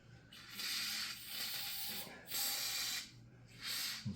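Three bursts of aerosol spray lubricant, each lasting about a second, hiss close by onto the axle of an Ariens snowblower, with short quiet gaps between them.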